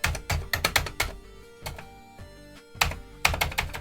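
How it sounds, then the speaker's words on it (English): Keys on a Commodore C64C keyboard are pressed in quick clusters of clacks, short bursts of several keystrokes separated by brief pauses, close and crisp. "It registers when I'm pressing the function keys with a flashing cursor."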